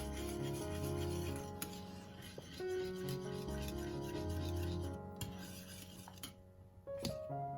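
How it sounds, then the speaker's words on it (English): A spatula stirring and scraping thickening orange coconut halva in a pot after seed oil is added, steady rasping strokes with clinks of the utensil against the pan, close and continuous. "So now I'm gonna add my oil, my seed oil, and mix again."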